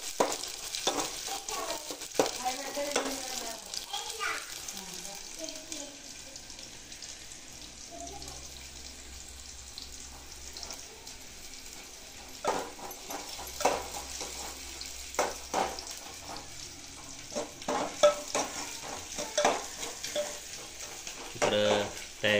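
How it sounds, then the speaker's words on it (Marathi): Onion fries with cardamom in a pan in a home kitchen, a soft continuous sizzle broken by scraping stirring strokes that come in bursts; faint and fairly close, with no clear talk. "कांदा चांगला परतून घ्यायला."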